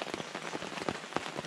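Rain falls steadily on a surface at an Ozarks campsite, a dense patter of close drops with no voices.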